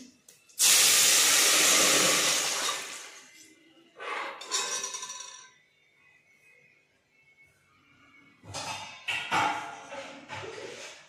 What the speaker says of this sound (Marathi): तर पाणी टाकते।